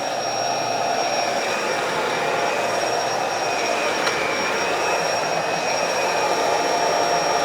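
A Bissell Pet Hair Eraser Turbo Lift-Off vacuum cleaner runs on carpet in low carpet mode, giving a loud, constant whirring roar with a high whine and no pauses.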